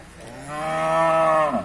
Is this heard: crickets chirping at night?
no